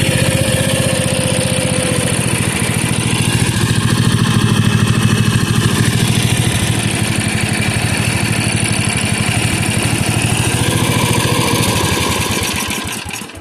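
A 1977 Bolens G10 lawn tractor engine with an untuned carburetor running close by, a loud, steady droning putter that holds throughout and slightly wavers near the end.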